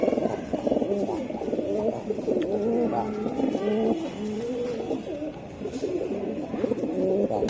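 Several Iranian Toggi pigeons coo continuously at close range, overlapping rounded, throaty calls in a steady rolling rhythm with a faint background hum and no talk.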